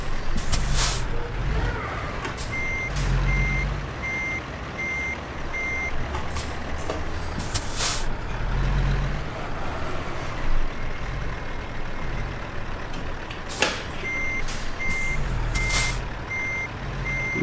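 A truck backing a trailer in American Truck Simulator sounds repeated reversing beeps at a steady rhythm over a low engine rumble, with occasional air-brake hisses and clicks.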